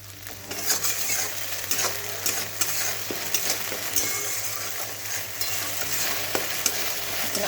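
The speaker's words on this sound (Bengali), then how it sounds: "দিয়ে ভালো করে ভেজে নিই এটা।" Egg curry masala fries and sizzles steadily in a pan with ginger, garlic, chili and onion, while a spatula stirs and scrapes with irregular clinks throughout, close and moderately loud with no talking.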